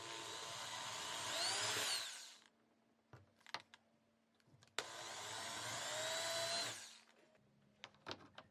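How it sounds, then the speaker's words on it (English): A power drill whirs loudly drilling holes for a door latch in two sustained bursts of about two seconds each, separated by quiet clicks and small handling knocks. "once the new holes are drilled, I can put the screws in the latch in its new position"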